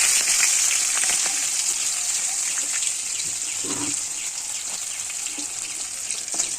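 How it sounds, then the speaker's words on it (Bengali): Bay leaf, green chili and nigella seeds frying in oil in a kadai, a loud, steady close-up sizzle with scattered crackles and pops that continues throughout. "এবার কড়াইতে তেলে তেজপাতা, কাঁচা লঙ্কা আর কালো জিরে ফোড়ন দিয়ে দেবো"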